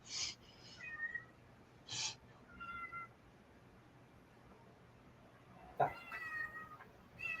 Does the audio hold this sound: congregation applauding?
no